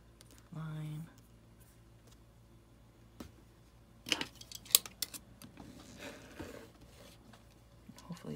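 Scissors cut along a black line through craft batting for a slow stitch journal signature, giving a few faint, soft snips and rustles spread through a quiet stretch, close to the microphone.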